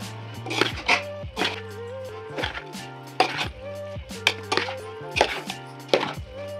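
Cooked biryani being stirred in a pot, with repeated scraping and clanking strokes of a spoon against the metal in a steady rhythm, close and fairly loud, with no talking.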